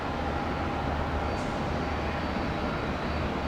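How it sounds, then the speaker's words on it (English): Steady broadband roar of an Alaska Airlines jetliner on its takeoff run at Tampa International Airport, heard from a distance as a continuous even rumble with no talk. "Alaska's 433 has been cleared for takeoff."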